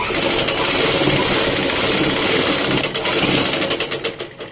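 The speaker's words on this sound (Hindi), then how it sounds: "अब मैं घेर में अपने यहाँ पर फोल्ड करके इस तरह से सिलाई डाल दे रही हूँ।" A sewing machine runs fast while stitching a folded hem on a short top, giving a loud, continuous motor whir that wavers and slows in short pulses at the end, with no talking.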